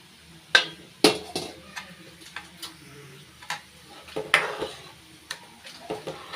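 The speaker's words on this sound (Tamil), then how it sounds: "நல்லா மிக்ஸ் பண்ணி விட்டுக்கலாம்." Buttermilk is stirred into a pot of mor kulambu, a buttermilk curry with toor dal dumplings. A utensil makes sharp, irregular taps and clinks against the pot over a quiet background.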